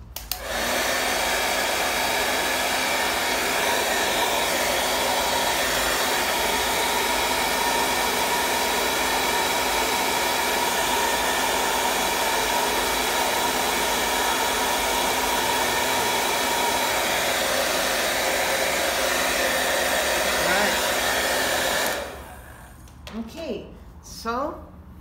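A hair dryer blows on an acrylic painting, a loud, steady, whining hum that runs close and unbroken for over twenty seconds, then cuts off, followed by brief soft handling noises.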